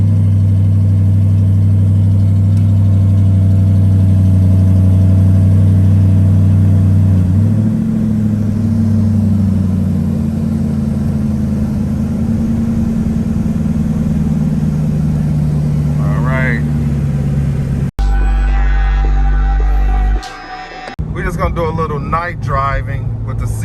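A Chevrolet C8 Corvette's engine runs as a loud, steady, low idle with a shift in pitch partway through, ending in a sudden cutoff followed by brief rustling and voices.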